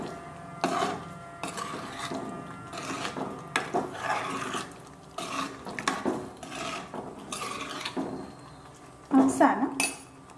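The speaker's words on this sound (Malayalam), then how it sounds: "നമുക്കൊന്ന് ഇളക്കി കൊടുത്തുകൊണ്ടിരിക്കാം" Beef chops being stirred in a hot pan, with repeated scraping and clinking of a utensil against the metal in irregular bursts, fairly close and moderately loud.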